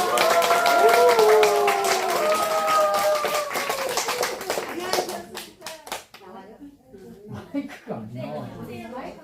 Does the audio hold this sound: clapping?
yes